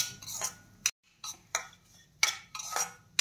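Semolina with cashew and almond pieces roasting in ghee for prasad sheera, stirred in a pan, making irregular bursts of spoon scraping and clinking separated by short pauses, close and fairly quiet.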